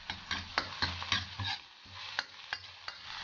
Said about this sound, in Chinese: 炒香了再下入刚才准备好的葱、姜、蒜和剁椒